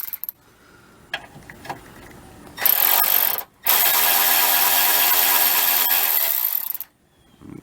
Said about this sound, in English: I'll be using a Milwaukee 3/8 drive.